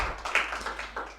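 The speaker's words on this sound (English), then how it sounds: "I have another round of applause for a first-time performer here." Scattered, sparse hand claps from a small audience at an open-mic music session, a few close taps over about a second, fairly quiet, with no talk.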